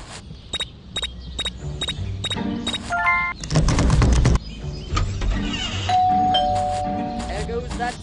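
A doorbell rings several times in quick succession inside the video game Scary Teacher 3D, with chiming tones mixed with other game noises and effects.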